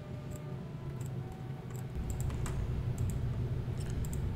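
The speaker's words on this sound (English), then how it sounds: "I'll type it out." Typing on a computer keyboard: quick irregular clusters of light key clicks, close and fairly faint over a steady low background hum, with no voices.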